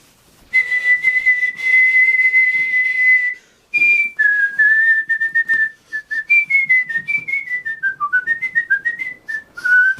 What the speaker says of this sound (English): Oh, I probably shouldn't be whistling it.